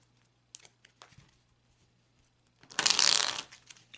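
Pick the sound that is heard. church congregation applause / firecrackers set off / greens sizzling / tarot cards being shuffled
tarot cards being shuffled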